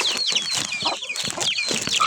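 Backyard chicks and young chickens feeding on vegetables and beans give off busy, overlapping high peeps and soft clucks, close and lively, with pecking and scuffling in between.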